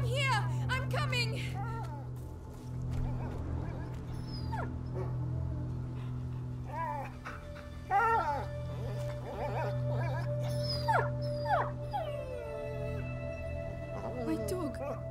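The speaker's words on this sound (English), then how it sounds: "My dog!" A dog in the video game A Plague Tale: Innocence whimpers and howls in high, wavering cries over a steady low droning ambience, the pained calls rising and falling repeatedly without speech.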